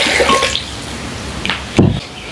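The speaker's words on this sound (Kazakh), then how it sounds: "Енді 1 стакан су қосамыз." Water poured from a glass into a blender holding pumpkin, a close splashing pour with a brief louder splash near the end.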